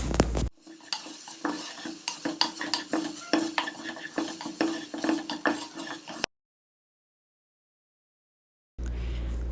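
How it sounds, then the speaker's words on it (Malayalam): Spice powders and green chilli stir-fried in a pan for beef cutlet, with a spoon clattering against the pan in quick, busy strokes over a light sizzle, close up, stopping abruptly into silence before a brief hum returns. "ഇത്രയും പൊടികൾ ചേർത്ത് കൊടുത്തിട്ട് അതിൻ്റെ ആ ഒരു പച്ചമുളകൊന്ന് മാറി വരുന്നവരെ മൂപ്പിച്ചെടുക്കുക"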